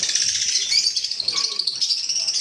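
Lutino Fischer's red-eye lovebirds chatter in a dense, continuous stream of shrill chirps, close and loud, with no gaps across the stretch.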